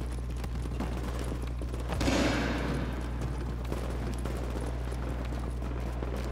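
Gunfire in Tom Clancy's The Division, a single burst of shots near the two-second mark over a steady low hum, with no other distinct shots around it.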